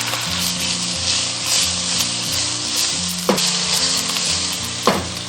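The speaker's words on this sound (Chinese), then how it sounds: "还有螃蟹壳，中小火煎。" Fish bones, fish heads and crab shells pan-fry in lard over medium-low heat, producing a continuous loud sizzle and spatter with two sharp scraping knocks of a utensil in the pan.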